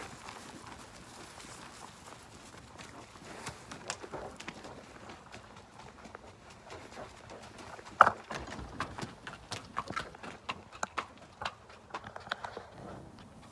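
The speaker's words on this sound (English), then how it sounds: "Here she is, number one mare on the yard, coming in like a race pony." Hooves of a mare clip-clop as she trots in across a stable yard at night, a run of sharp irregular knocks rising in the second half, fairly close, with birds faint in the background.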